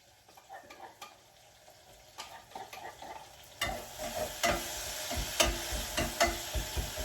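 Garlic tipped into a simmering sauce and stirred in, a soft background hiss joined partway through by louder scraping stir strokes and clinks that recur irregularly.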